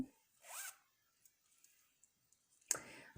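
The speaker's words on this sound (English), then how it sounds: "Unzip it." A fabric zipper is unzipped during sewing, giving a brief close rasping zip, then near-silence with faint handling clicks before a second short rasp of cloth and zipper movement.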